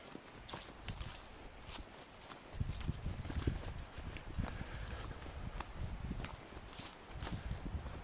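Cattle on a pasture moving through bushes, with uneven hoof thuds and rustling brush at a moderate distance, steady and unhurried with no voices.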